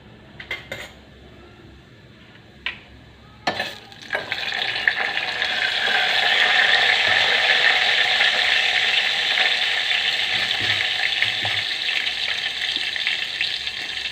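Cumin and tempering seeds hit hot oil and erupt into a loud, steady sizzle that swells after a few sharp pan clanks and keeps crackling without a break, with no voices.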